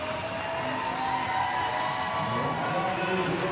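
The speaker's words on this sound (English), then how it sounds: "Well, you can hear the crowd, they're excited here today" Crowd at a 3m synchronized diving competition in Windsor, Canada, a continuous excited roar of cheering and whooping filling the venue.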